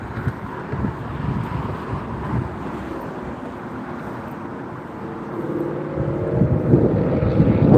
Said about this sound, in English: Oh yeah, plane.